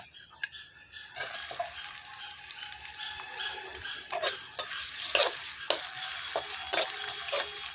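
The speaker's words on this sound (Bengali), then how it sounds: "পেঁয়াজটাকে একটু লাল লাল করে ভেজে নিব।" Chopped onion fries in hot oil in a wok with a steady sizzle, broken by repeated scraping and stirring strokes of a spatula, fairly close and without speech.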